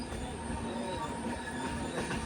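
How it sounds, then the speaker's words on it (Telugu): A passenger train running on rails through a tunnel at slow speed, a steady loud rumble and hiss with faint wheel squeal, continuous and close, heard from inside the carriage. "ట్రైన్ చాలా బాగుంది"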